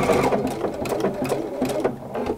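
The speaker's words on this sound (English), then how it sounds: "I just press the reverse button here and the machine will start the taper for me." A PFAFF creative icon sewing machine stitches a tapered seam, making a fast rhythmic mechanical whirring and needle clatter that stays close and steady with small pulses.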